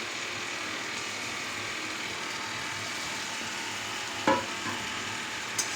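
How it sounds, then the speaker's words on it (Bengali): Tomatoes being stirred in a hot cooking pan, a steady sizzle and frying hiss running throughout, with a couple of brief scraping clatters near the end and no talking. "টমেটোগুলো দেওয়ার পরে একটু নেড়ে নিচ্ছে"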